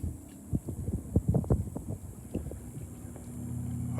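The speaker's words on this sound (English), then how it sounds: "biplane. It's one of those Wacos." A Waco biplane flying along the beach gives a low throbbing engine drone, pulsing unevenly at first, then growing steadier and louder as it approaches.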